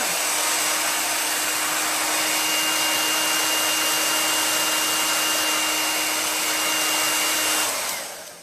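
Hair dryer blowing on a chalk craft project: a steady, loud whirring hum with airy rush held for several seconds, then winding down as it switches off, no talk.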